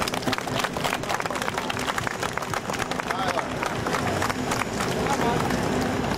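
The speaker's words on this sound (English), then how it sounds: "why don't we give the fire department one more round of applause" An outdoor crowd at the Oneida, NY fire department's live burn demonstration claps steadily for the firefighters, a busy, continuous patter of many hands with faint murmur underneath.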